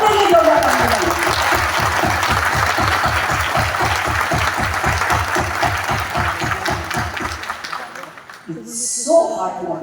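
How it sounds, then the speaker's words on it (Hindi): A large audience at a motivational event claps in loud, rhythmic unison, fading out toward the end while a voice speaks over the tail. "अपने लिए जोरदार तालियां बजाइए"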